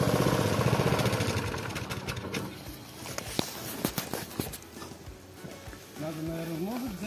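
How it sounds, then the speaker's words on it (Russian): A walk-behind tractor (motoblock) engine chugs nearby with a rough, rapid putter that steadies to an idle, with footsteps and people talking over it. "Сейчас трактор наш выключу."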